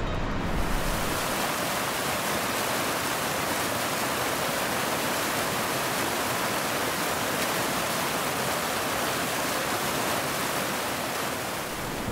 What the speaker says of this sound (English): you can hear the rapids down there.